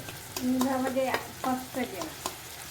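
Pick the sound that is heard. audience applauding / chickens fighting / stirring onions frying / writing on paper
stirring onions frying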